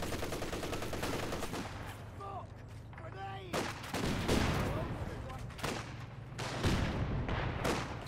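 Machine gun fire in the World War II strategy game Company of Heroes 2: rattling bursts and scattered gunshots cut through a busy battlefield mix, with a voice talking over the action.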